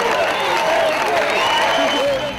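A concert crowd in Istanbul applauds and cheers loudly, a continuous wash of clapping and excited voices, with a nearby voice talking over it.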